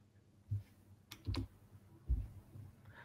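Computer keys click and tap a few times, soft and close, with a sharper press near the middle and another toward the end, as when hitting Enter while writing HTML code.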